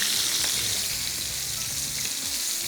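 Fish frying in a non-stick pan for a crispy desi-style fried fish, a steady dense sizzle with small crackles running throughout, close and alone with no talking.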